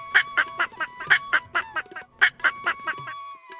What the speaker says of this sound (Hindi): इसकी क्वैक क्वैक आवाज बहुत मजेदार लगती है।